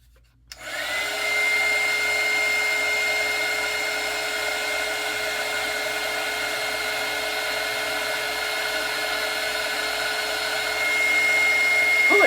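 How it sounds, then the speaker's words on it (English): A heat gun blows hot air steadily onto sculpting clay to dry it, starting with a sudden switch-on and then holding a loud, constant whirring roar with a high whine for the rest of the stretch, with no talk. "going to hit that with the heat gun to see if it softens it up too much"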